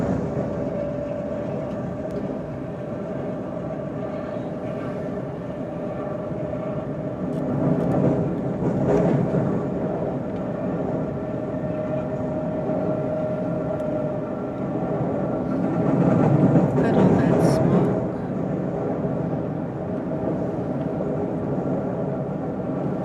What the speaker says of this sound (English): Let's listen as the railroad bridge takes us high above the entrance to San Pablo Bay.